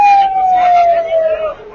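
A police siren wails as officers arrive as reinforcements, a single steady tone gliding slowly downward, fairly loud and close, with background voices and street noise mixed in.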